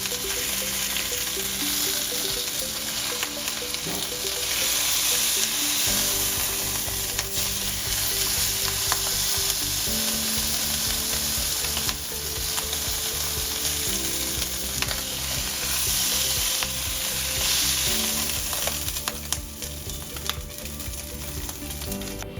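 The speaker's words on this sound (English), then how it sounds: "We got a nice hard sear on it." Sous vide chuck roast searing in avocado oil, a loud, unbroken hiss and crackle held close for over twenty seconds, with faint scraping and clicks from the pan or tongs underneath.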